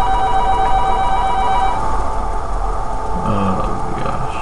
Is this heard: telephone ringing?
yes